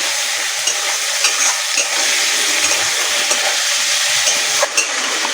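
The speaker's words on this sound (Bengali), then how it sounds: "এবার টমেটোটা দিয়ে আর একটু ভেজে নেব" Chopped tomato with ginger and garlic fries loudly in a pan for mocha dal, a constant close sizzle with occasional stirring clicks and no talk.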